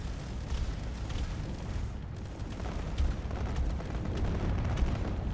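Heavy weapons fire striking a ship in a Space Engineers PvP tournament match, heard as a dense, continuous rumble of blasts and booms with scattered sharper impacts and no voices.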